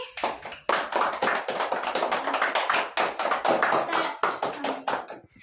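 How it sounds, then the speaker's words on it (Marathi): Schoolchildren in a classroom clapping their hands together, a rapid, dense burst of many claps close by that keeps going for several seconds before stopping abruptly. "टाळ्या वाजवा सगळ्यांनी"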